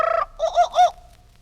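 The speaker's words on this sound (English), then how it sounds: "You will know it is time to turn the page when you hear the jungle bird call" Jungle bird call used as a page-turn cue: a tonal, hooting cluck in a short rhythmic series of three or four notes, close and clear with nothing else around it.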